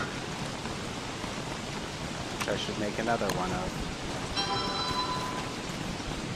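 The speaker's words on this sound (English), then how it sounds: "It's still raining." Rain in the video game Don't Starve: steady hissing rainfall fills the whole stretch beneath someone speaking, with a few faint game tones surfacing briefly.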